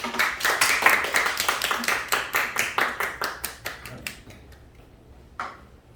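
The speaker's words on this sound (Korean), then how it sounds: "오실 때 우리 큰 박수로 환영하겠습니다" A church audience claps together in welcome, a steady run of sharp hand claps that thins out and fades, with a last few scattered claps near the end.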